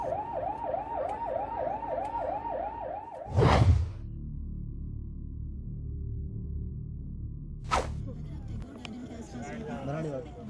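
An ambulance siren wails in a steady repeating rise-and-fall over rumbling midday traffic jam in Delhi, then cuts off amid engine noise and passing vehicles.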